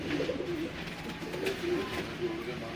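Long-beaked teddy pigeons, a pair kept for sale in Sialkot, coo in soft repeated low phrases, steady and close, against a constant background hum.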